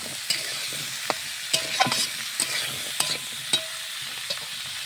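Cut potatoes and pointed gourd stir-fry in a pan with a soft continuous sizzle, punctuated by scattered clicks and scrapes of the spatula at an irregular rhythm.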